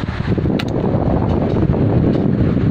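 An electric fan whirs steadily with a rushing airflow noise close to the microphone, brief and continuous, no speech.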